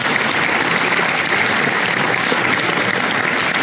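Dense, steady applause from an audience at an adventure and motorcycle festival awards gala, loud and continuous throughout, with no voices rising above it.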